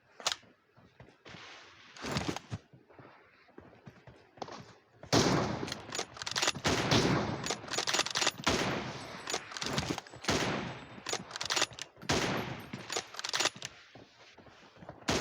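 Gunfire rattles through a PUBG team deathmatch: a few isolated shots, then dense rapid automatic bursts that crackle loudly and continuously, with brief gaps as the shooting pauses.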